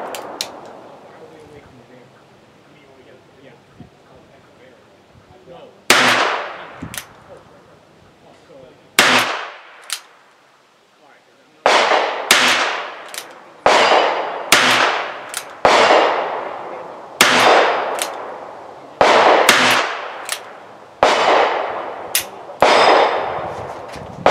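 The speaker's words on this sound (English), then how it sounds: "we're going to be firing the Winchester bulk ammo, 38 grains" A Ruger Wrangler cowboy-style revolver fires Winchester bulk 38-grain ammunition, about twelve sharp, loud close shots, spaced irregularly with quick pairs and short pauses, after a few seconds of quiet handling.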